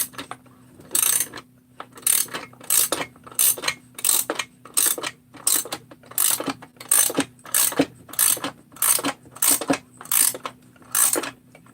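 A press handle is cranked to assemble a 372 crankcase, producing repeated bursts of loud ratcheting clicks in a steady rhythm, roughly a dozen strokes with short pauses between them and no talking.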